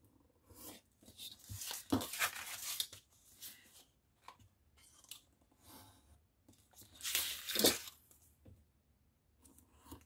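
Paper being torn and creased by hand while shaping a small 3D paper truck, with soft rustling and two louder bursts of ripping at close range, no talk.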